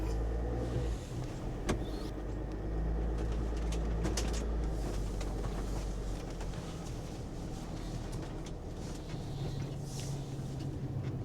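A 2016 Winnebago View motorhome backs up with a steady low engine rumble throughout. Occasional birds coo and chirp faintly nearby. No one speaks.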